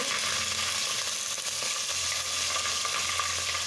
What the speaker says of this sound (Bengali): এখন আমি কাঁচা লঙ্কাটা দিয়ে দিচ্ছি,